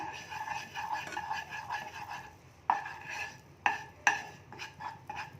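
A spoon stirring and tossing chicken 65 in a pan, soft scraping strokes with a few sharper clinks against the metal, close and fairly quiet, nobody speaking.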